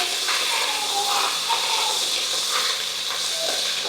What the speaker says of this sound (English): just going to deglaze the pan a little bit with some red wine